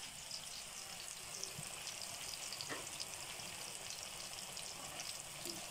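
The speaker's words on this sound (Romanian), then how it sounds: "uitați ce frumos se prăjesc păjolițele" Moldovan pârjoale meat patties fry in a pan with a steady, faint oily sizzle and crackle, continuous and even, heard close without voices.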